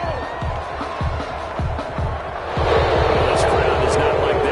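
A stadium crowd in a PS4 football video game reacts to a penalty call, a steady roar that swells louder partway through, under a commentator's continuous voice.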